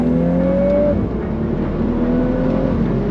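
A Volkswagen Golf R hot hatch engine accelerates at full throttle, heard from inside the cabin with a window open: a loud, continuous drone that climbs in pitch through the revs, with no voices.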